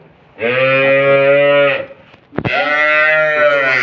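Holstein Friesian dairy cows at a cattle market in Dinajpur, giving two long, loud, close moos one after the other with a short gap between them.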